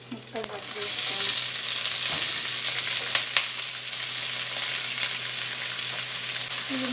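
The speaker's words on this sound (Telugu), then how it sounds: "కట్ చేసి పెట్టుకున్న ఉల్లిపాయలు పోపులో వేసుకోవాలి." Chopped onions drop into hot tempering oil and fry with a loud, continuous sizzle right up close, following a brief clatter at the start.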